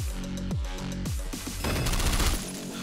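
Gunfire from a picked-up gun in the roguelite shooter OTXO rings out as rapid, loud shots, a few punchy blasts first, then a dense burst of automatic fire over a thumping game soundtrack.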